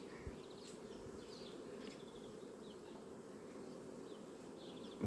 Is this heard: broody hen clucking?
no